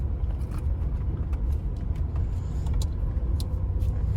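A 2013 Honda Fit LX with 200,000 km on it is driven along a road, its steady low engine and road rumble filling the cabin, with faint clicks and rattles and no one speaking.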